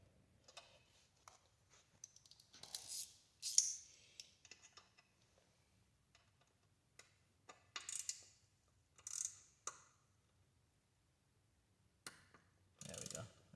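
Torque wrench tightening an M6 bolt on a rear spool of a 2022 Yamaha R7 to 6 Nm, heard as sparse, quiet ratcheting clicks and faint handling noises with brief rustles between long near-silent gaps.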